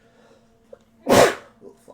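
One loud, sharp sneeze bursts out close by during a tabletop game session. Faint voices sit around it, and someone swears immediately afterward.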